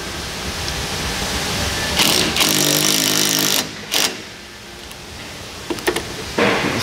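A bolt is run in to separate the faceplate from an asphalt pump on an Etnyre distributor, a steady buzzing power-tool whir with short bursts and pauses, loud and close.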